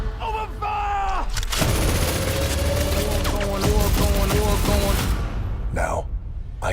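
Film-scene gunfire after an order to open fire: a loud, dense, continuous barrage of shots and blasts fills several seconds, with a tonal layer running through it before it stops abruptly.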